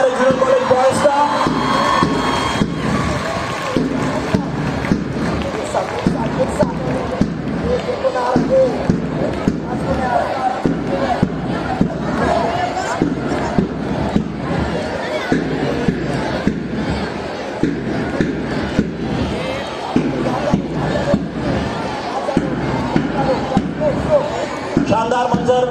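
A school crowd at a sports opening ceremony claps and cheers for junior college boys, a busy mix of clapping, shouts and chatter under an announcer's voice throughout, with irregular sharp hits.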